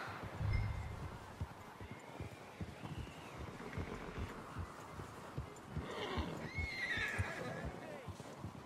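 In Red Dead Redemption 2, a horse whinnies and snorts near the close while hooves clop irregularly throughout, with quiet ambient game sound under it.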